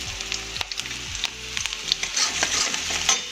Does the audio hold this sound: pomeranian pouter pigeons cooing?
no